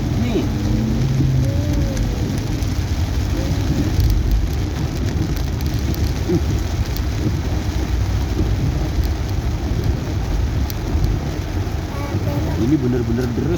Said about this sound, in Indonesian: Ini bener-bener deres ini hujannya deh.